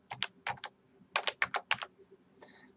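Computer keyboard keys are pressed in quick bursts, with two fast clusters of crisp taps separated by a short pause, close and fairly quiet, as a password is typed with no talking.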